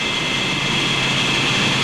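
Whispering Angel, a pulling tractor powered by a Rolls-Royce Proteus turbine engine, screams steadily at full power in a tractor pulling competition, a loud, close, sustained jet whine with a high hissing edge.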